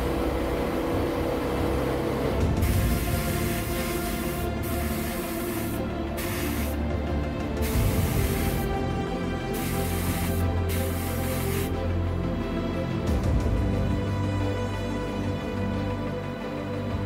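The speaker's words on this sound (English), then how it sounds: "before being lightly sprayed with a silver, still leaving some of the copper visible underneath" Airbrush or spray can misting silver paint onto the exhausts of a 1/48 scale Italeri Wessex UH.5 model helicopter, a continuous close hiss with brief interruptions and bursts, alone without talk.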